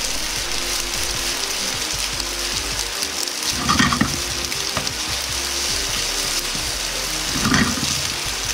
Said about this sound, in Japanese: 底の部分が焦げないように鍋を揺すりながら炒めます。